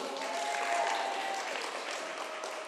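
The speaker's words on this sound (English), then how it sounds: "So let's give them a big applause." An audience claps steadily and densely at a high-school musical performance, a sustained, fairly loud wash of applause with no talking over it.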